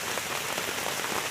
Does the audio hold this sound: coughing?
no